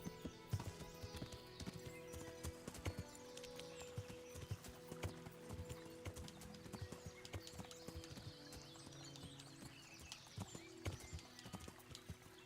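Steady clip-clop of horse hooves walking in Kingdom Come: Deliverance, an even rhythmic plodding that carries on throughout, fairly quiet and close, with no talking.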